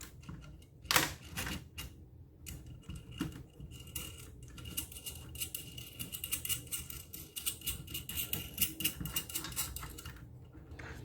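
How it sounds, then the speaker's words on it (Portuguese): Metal nuts and a washer threaded onto a bolt and tightened against each other while building a single-phase brushless motor, a run of small close metallic clicks, clinks and ratcheting scrapes, fairly quiet with no talk. "eu aperto uma porca contra a outra"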